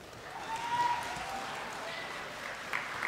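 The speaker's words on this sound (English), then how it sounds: "Reminder that clapping is only in order after each set of opening speeches." Scattered clapping from delegates at a model UN conference opening ceremony, a short burst of applause with some voices mixed in.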